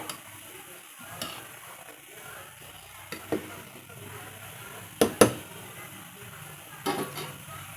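Bottle gourd sambar simmering in a pot on low heat is stirred with a utensil, giving a soft bubbling background with a few sharp clinks of the spoon against the pot.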